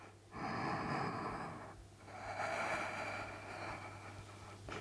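Deep, slow, breathy inhales and exhales come close and soft during a yoga stretch, two long breaths under a faint steady background hum.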